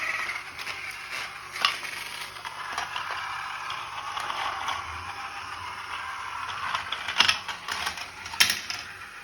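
A small battery-powered motorized road mechanism runs on its own, giving a quiet continuous whir with light ratcheting clicks and ticks that sharpen into a few louder clacks near the end.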